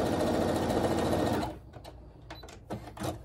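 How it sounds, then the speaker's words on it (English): A sewing machine stitches two fabric squares together while piecing a Poutama quilt block. It runs in one loud, fast, steady burst for about a second and a half, then stops, leaving quiet handling sounds. "I'm just gonna sew those two together like this."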